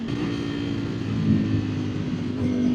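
A 2025 Ducati Streetfighter V4 ridden on a dry road with its exhaust baffles removed gives a steady, close, throaty engine drone with slight swells in revs throughout.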